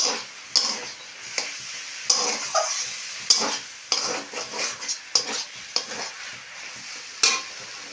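Cabbage ball filling stirred and cooked in a pan, a spatula scraping and clattering in irregular strokes over a steady close sizzle, with no voices.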